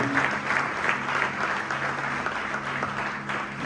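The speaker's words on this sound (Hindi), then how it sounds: "आए खुदा के कलाम के लिए जोरदार तालियां बजाएंगे" A church congregation claps steadily in a dense, even burst of applause at a full worship service, a dull hum beneath it and no voices over it.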